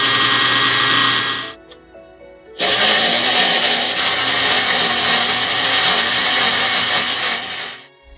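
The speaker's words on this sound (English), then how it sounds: "I will puree the onions so it will blend in with the rest of the ingredients" An electric blender pureeing onions runs with a loud, steady whir, stops briefly into near silence, then starts again and runs evenly for several seconds before cutting off.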